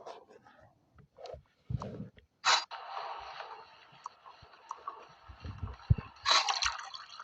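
Grape juice poured into a glass at home, with intermittent splashing and dripping bursts, moderately close and fairly quiet, separated by short pauses and light handling noises.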